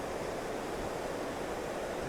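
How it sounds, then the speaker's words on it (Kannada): Lohit river flowing toward Parshuram Kund in Arunachal Pradesh, a faint, even rushing of water with no other sounds. "ಇದು ಲೋಹಿತ್ಯ ನದಿ."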